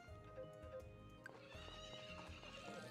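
A horse neighs in the farming video game Friends of Mineral Town, a short synthesized whinny with light clip-clop hoofbeats over quiet game background music.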